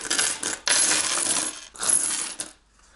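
Old Soviet-era coins poured out of small purses onto a pile, a dense metallic jingling cascade in two loud bursts, close by, that trails off into quiet.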